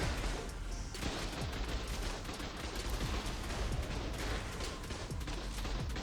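Turrets fire continuously in ARK, a steady, dense rattle of rapid shots with occasional heavier booms, sustained across several seconds at a moderate, somewhat distant level.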